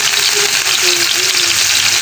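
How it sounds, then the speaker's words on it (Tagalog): Ginger, onion and tomato sautéing in hot oil, a loud, steady close sizzle with no pause. "Igisa natin yung aromatics natin hanggang sa lumabas yung aroma nila saka yung natural flavor nila."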